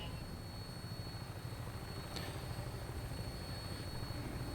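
A vertibird aircraft taking off in Fallout 4 gives a steady low rotor and engine drone, moderately loud and continuous, with a faint whine running above it.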